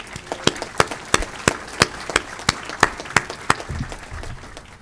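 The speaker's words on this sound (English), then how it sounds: "So give yourself a huge round of applause." Meeting participants clapping together in a hall, a steady round of applause with crisp, evenly spaced claps that carry on for several seconds.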